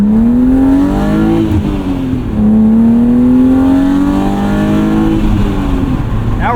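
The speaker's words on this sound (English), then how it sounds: "there's nothing like a BMW inline 6 that's been opened up a little bit" A 1998 BMW M3 E36 with its inline-six engine, modified, at about 250,000 miles, revving loudly and close up. The pitch climbs, drops back and climbs again in two long sweeps, with no talk.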